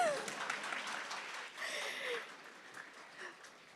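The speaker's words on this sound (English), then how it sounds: "That should get an applause." Ceremony audience at a medical school white coat ceremony breaking into applause, a moderate wash of clapping that rises and dips briefly with faint voices mixed in.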